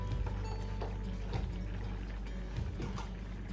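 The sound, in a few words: pouring vegetable broth into a pan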